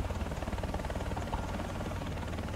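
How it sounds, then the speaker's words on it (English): Helicopter rotor and engine drone from the War Thunder combat game, a steady, dense low throb with rhythmic chopping pulses that holds at a constant level throughout, with no talk over it. "Guys, I have a helicopter."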